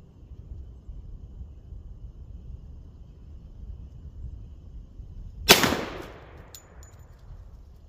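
A Glock G40 10mm pistol with a stock 6-inch barrel fires a 180 grain MagTech full metal jacket round: one sharp, loud report with a fading ring, set against a low, steady background rumble.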